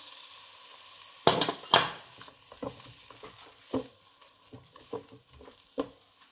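Chicken meatballs with chives and goat cheese stirred in a pan: a sharp clatter of spoon against metal, then irregular scraping strokes over a faint frying hiss.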